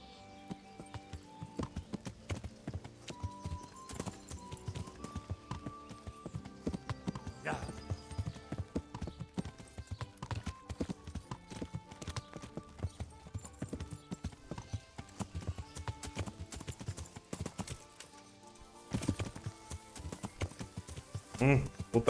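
Horse hooves clip-clop steadily in the medieval game Kingdom Come: Deliverance, a rhythmic trotting gait over game music and ambience, moderately quiet with a brief snort or whinny.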